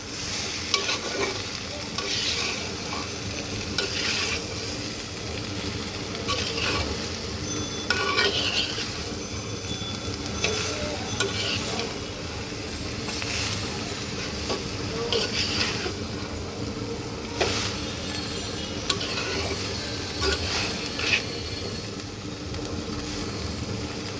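Cabbage with fish head, green peas and potato is stirred and fried in a pan, a continuous sizzle with repeated scraping and clattering strokes of the spoon, close and fairly loud.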